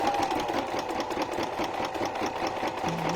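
Sewing machine stitching steadily through a thick junk journal cover, a loud close continuous rapid mechanical whir with a fast regular needle pulse throughout.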